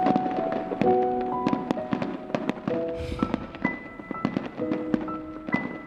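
New Year fireworks crack and pop at a distance, scattered bangs and thumps spread irregularly, some faint and some sharper, with a low rumble underneath and no talk.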